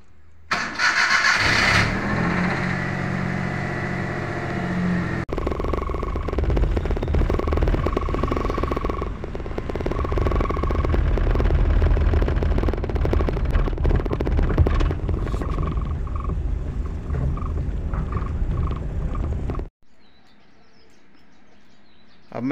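A car that has stood unused for a long time, parked in a home garage, is cranked and catches, then its engine runs loud and steady for about fifteen seconds before cutting off, with a faint bird call near the end.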